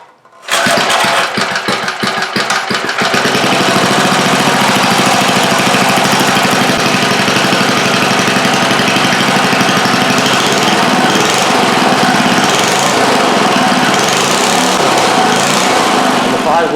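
A small 5-horsepower lawn edger engine, choke on, sputters to life after a brief pull, then runs loud and steady, a buzzing mower-like drone close by.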